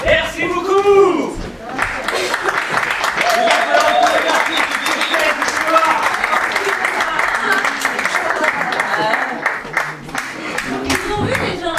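An audience at a French show gives dense, sustained applause for several seconds, loud and continuous, after a voice speaks at the start.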